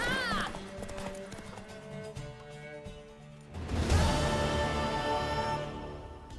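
Horse hooves clip-clop rhythmically alongside music in The Witcher 3, the trotting growing louder and busier partway through as the score swells.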